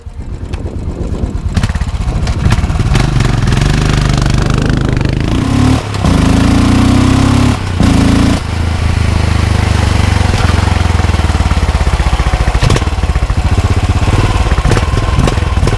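A cafe racer motorcycle with a 535 engine runs loud and close at high RPM, a dense buzzing roar held steadily, with two brief dips as the throttle is eased and reopened.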